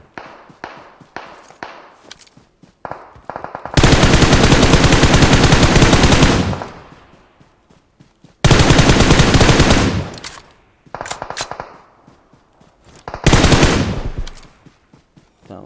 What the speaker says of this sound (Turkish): Kankam size nereden sıkıyorlar ya?